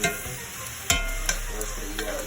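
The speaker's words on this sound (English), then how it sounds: "Check the sizzle out, y'all." Chicken sizzles in a hot pan with a steady crackling hiss, broken by a few sharp clinks of stirring up close.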